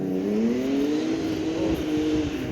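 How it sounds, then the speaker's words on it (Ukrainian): Racing cars driving past in a Zhytomyr park with blossoming sakura trees, a continuous loud engine drone whose pitch climbs and wavers as they go by. "Поїхали якісь гоночники."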